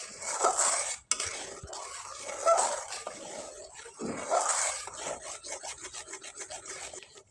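Thick chickpea-lentil paste being stirred continuously in a pan so it won't stick, giving steady scraping and rasping of a utensil against the metal, with occasional clinks and no talk.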